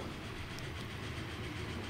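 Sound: train running in Train Fever video game

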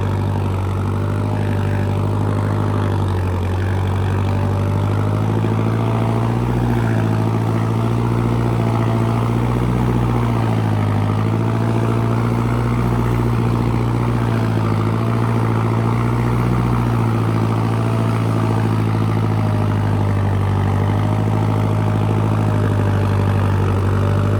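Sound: modified Mahindra Arjun tractor engine running

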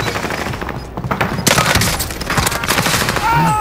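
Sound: machine gun fire in a shooter video game

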